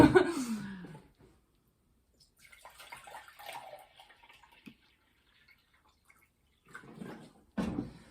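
Well water is poured from jugs into a pot while making burdock broth, with splashing bursts and trickles at the start and end and faint handling noises between, close by.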